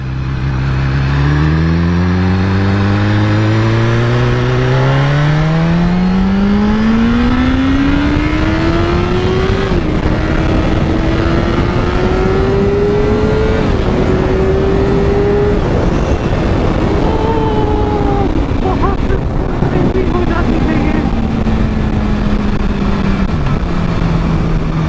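A BMW S1000RR superbike in race mode screams up through several gears, loud and close, its rising engine pitch climbing in steps with brief shifts before settling into a sustained high wail, with no talk over it.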